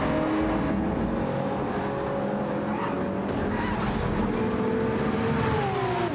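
Porsche race car engine from the FlatOut racing game, a steady loud drone with shifting revs and tire noise, heard under the low voice of a live commentator.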